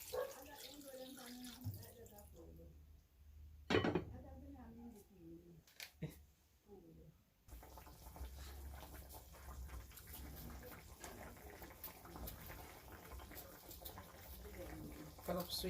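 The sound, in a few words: water added to pot of Jamaican brown stew pork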